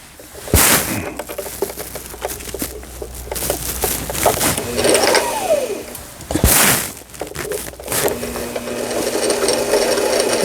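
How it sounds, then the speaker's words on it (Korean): A Brother Boutique 10 home sewing machine whirs in short runs while winding bobbin thread, broken by clicks, rubbing and handling noises up close. "지금 이제 북실을 감고 있는 영상이 되겠습니다."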